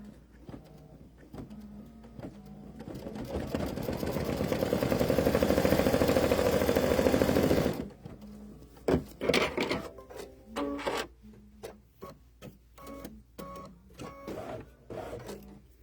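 Embroidery machine stitching an appliqué placement line for a heart, a rising steady mechanical whir lasting several seconds, then stopping into a series of short clicks and knocks.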